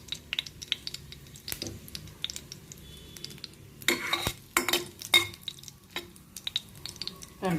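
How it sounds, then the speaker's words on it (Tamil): Mustard and spice tempering crackles in hot oil for an ivy gourd curry, scattered sharp pops and spits over a quiet base, with a spoon clinking and scraping the pan now and then; no voices. "இப்போ வந்து அதே எண்ணெயிலே வந்து இப்போ தாளிப்பு போடுறோங்க"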